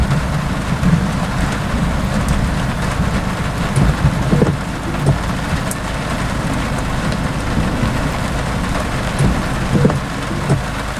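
Heavy rain pours steadily during a Florida thunderstorm, with dull rolls of thunder rumbling underneath and scattered louder drops and gusts throughout, no voices.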